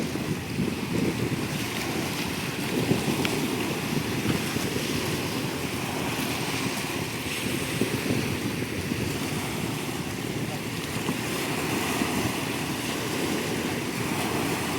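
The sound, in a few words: sea waves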